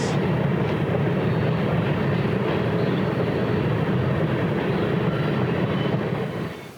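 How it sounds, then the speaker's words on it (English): A train passing by trackside at a wild campsite, a steady loud rumble and roar that holds for several seconds before easing off at the end. "It's a frickin' train!"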